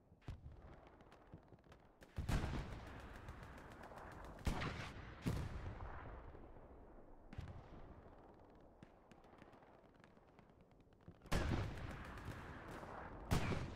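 Rockets and machine-gun fire in a video game sound as several sharp, booming blasts, each followed by a rumbling decay, spread apart over quiet background noise.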